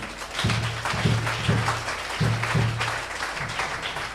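A church congregation applauding at a French-language prayer service, with rhythmic clapping in spaced bursts that sound like a clap-along beat under a low hum, moderately loud with no speech.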